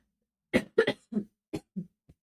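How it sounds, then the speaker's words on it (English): A person with a lingering illness coughs six times in a row, each cough short and close, the bursts fading in strength toward the end. "I'm going to go before I cough more."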